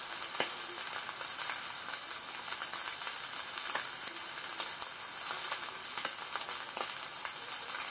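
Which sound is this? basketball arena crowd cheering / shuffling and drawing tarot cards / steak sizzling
steak sizzling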